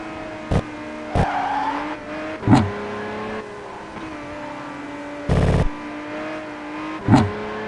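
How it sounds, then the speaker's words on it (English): A rear-wheel-drive GTR Advan Godzilla race car in a racing sim, its engine droning and rising as it accelerates, with short tire squeals and abrupt bursts as it brakes hard into a corner, heard alone without talk. "So here I'll accelerate, then brake as soon as possible, otherwise I will not make this con."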